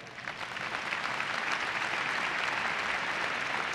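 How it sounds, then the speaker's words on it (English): Steady applause from a large business travel convention audience in a general session hall, a dense even clapping roar filling the whole stretch with no talk over it. "So please, a round of applause for that great strike."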